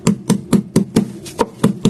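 A rolling pin pounds fried pepper sealed in a bag in a home kitchen, about eight dull, even thumps at a steady beat, close and fairly loud, with no talking.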